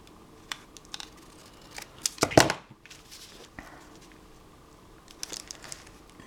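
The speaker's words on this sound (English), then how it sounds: "I'm just going to cut a little bit off." Scissors snipping a piece off a handmade Christmas decoration, scattered crisp cuts and rustling up close, with one louder crunching snip in the middle and quieter clicks afterward.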